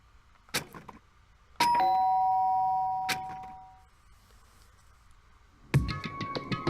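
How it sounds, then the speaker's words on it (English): A two-tone doorbell chime rings in the Danganronpa: Trigger Happy Havoc video game, with a sustained bright ding that fades over a couple of seconds, framed by short game sound effects before and after. "did I hear the doorbell?"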